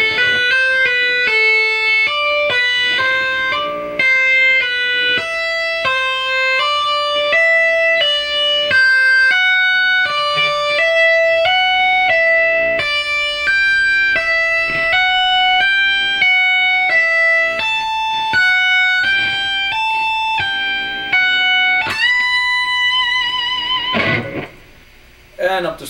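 Electric guitar tapping lick played slowly with distortion, a continuous chain of clear sustained notes in a repeating pattern, ending with a string bend and a short noisy cutoff.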